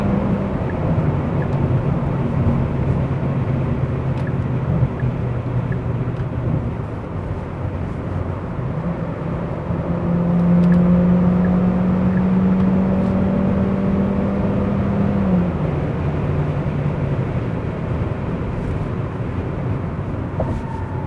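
A 2020 Hyundai Sonata hybrid drives at night, its cabin filled with a steady low road rumble and tire roar, and a smooth electric-motor whine rising midway as it pushes harder, with no talk.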